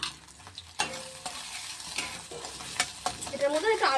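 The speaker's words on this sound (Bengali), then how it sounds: "করে নিচ্ছে একটুখানি ডিমের অমলেট।" An egg omelette fries in a pan with a soft, quiet sizzle, broken by a few sharp scrapes and taps of a spatula against the pan.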